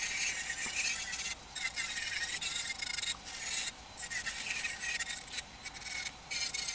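Rotary burr carving a woodturned flower piece, a steady abrasive rasp running almost continuously at close range, broken by a few brief pauses, with no voices.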